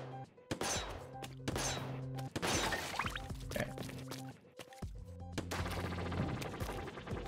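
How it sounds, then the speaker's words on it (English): Rapid ink shots in the Splatoon Octo Expansion video game, bursts of wet splatting blasts layered with game music and effects, repeated in clusters across the clip with brief gaps. "shoot as much ink as necessary"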